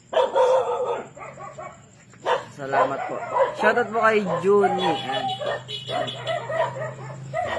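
Several dogs bark and yip outdoors in a busy Philippine neighbourhood, their calls mixed under and between a woman's steady close-up talking throughout.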